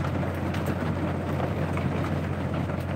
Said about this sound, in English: Man, it's coming down.